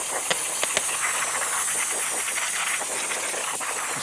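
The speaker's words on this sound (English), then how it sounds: "We'll use some parts cleaner." Aerosol parts cleaner sprays onto a brake backing plate on a 2014-2019 Toyota Corolla rear drum brake, a loud, close, continuous hiss with a few short bursts and no speech.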